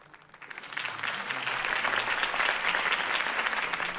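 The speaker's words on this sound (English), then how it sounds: "could have heard that applause" Applause in the video game Batman: The Telltale Series swells up from quiet into a dense, sustained clapping from a sizeable crowd at a campaign speech, continuing steadily at full strength.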